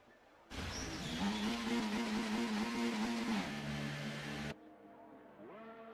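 Race cars in the F1 24 video game head out onto the track at Spa, Belgium, one engine revving loudly up through the gears with a steady high whine, then cutting off abruptly as a fainter car continues.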